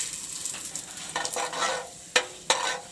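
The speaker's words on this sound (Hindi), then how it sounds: "सबसे पहले इसके अंदर तेज़पात डालेंगे।" Bay leaves crackle and sizzle in hot mustard oil, a steady frying hiss with a few sharp spattering bursts toward the end.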